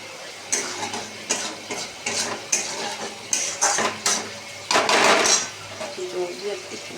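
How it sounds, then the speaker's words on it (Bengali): Spice paste is stirred and sautéed in a pan, the ladle scraping and clanking against the metal in quick repeated strokes over a soft sizzle, close by, with a brief burst of louder frying. "এবার কষিয়ে নেবো মশলাটা ভালো করে।"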